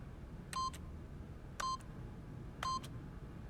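Three keypad PIN-entry beeps from The Stanley Parable video game sound about one second apart, each a short clean electronic tone over a quiet low hum.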